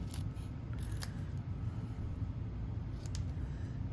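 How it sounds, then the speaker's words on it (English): Scissors snipping paper to trim and separate cut-out words, a few faint, quick snips over a low steady background hum, with no voices. "I'm gonna cut these two words apart. Okay, I'm gonna trim this down."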